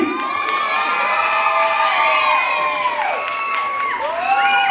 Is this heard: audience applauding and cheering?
yes